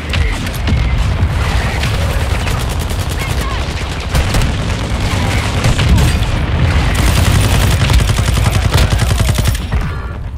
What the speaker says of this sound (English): Mortar, mortar, move.